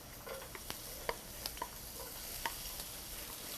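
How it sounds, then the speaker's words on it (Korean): Garlic stir-frying in hot cooking oil over heat turned down from high, a continuous sizzle broken by sharp ticks and scrapes of stirring, with no voices. "자, 마늘부터 볶겠습니다."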